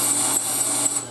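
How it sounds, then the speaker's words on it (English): Dull drill bit piloting holes in sheet metal on a Triumph TR3 body, a steady high-pitched grinding whine with a faint rasping edge, continuous and close for the whole moment, no voices. "And not the sharpest drill bit."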